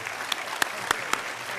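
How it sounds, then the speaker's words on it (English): Thin applause at an awards banquet, a soft wash of clapping with a few sharper individual claps standing out close by, brief and fairly quiet. "So give her a big round of applause."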